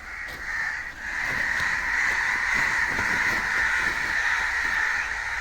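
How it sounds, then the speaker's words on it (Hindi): Several crows caw steadily near a flooded stretch along the Ravi River, their harsh calls overlapping in a continuous, fairly loud chorus with no talking. "कौवे देखो कौवे।"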